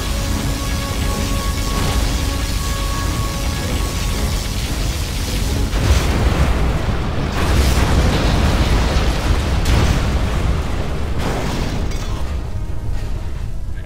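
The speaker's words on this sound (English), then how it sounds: "Our Scud Storm has been launched." Heavy Scud Storm missile strike explosions in the video game Command & Conquer Generals rumble one after another, a continuous roaring barrage with deep booms swelling and overlapping, loud throughout.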